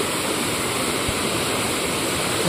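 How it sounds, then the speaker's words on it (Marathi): A village river running full with plenty of water rushes past in a steady, loud, broadband roar, close by and uninterrupted, with no talking. "आता आपण काय बघतोय बघा पूर्ण नदी पूर्ण वाहते. नदीला पाणी बघा किती आहे."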